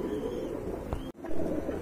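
A pair of black German Shield pigeons coo softly, a short, low call at moderate distance against a steady background hum.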